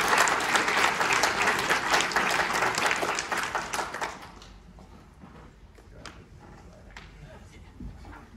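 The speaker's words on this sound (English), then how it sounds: "So another big round of applause, please." Audience applause at a STEM video challenge award ceremony, a burst of dense clapping for about four seconds that then thins out to scattered claps and faint voices.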